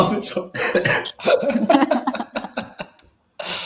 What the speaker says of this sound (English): I'm in a coughing fit.